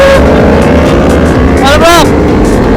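A Kawasaki Ninja H2 sport motorcycle engine revs and roars close by, pitch sweeping up and down, with crowd noise and voices around it.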